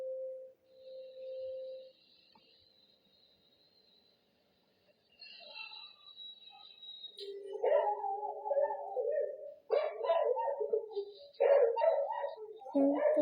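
A family dog barks and howls in excited bursts, picked up by a home surveillance camera, after a thin whine and a stretch of near silence.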